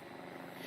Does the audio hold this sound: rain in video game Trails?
no